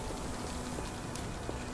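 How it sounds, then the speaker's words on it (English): Steady rain falls across London in the Sherlock Holmes: The Awakened game, a dense, even hiss that fills the background at constant volume with faint scattered taps. "rainy London is pretty rainy"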